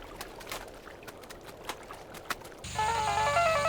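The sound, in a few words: phone ringing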